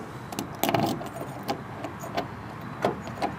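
Close metallic jangling and clicks as a key works in the door lock of a Ford F100 truck, a series of small irregular taps and rattles.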